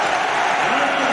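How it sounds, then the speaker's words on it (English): Basketball arena crowd during an NC State versus Clemson college game, a dense, steady roar of cheering and applause filling the whole moment with no pause. "Crowd on its feet."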